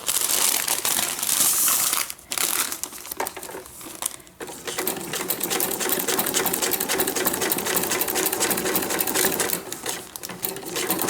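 Sewing machine stitching a fabric Christmas journal cover, a loud close rapid needle clatter running almost continuously with a few brief stops, mixed with crinkly rustling of the material, no voices.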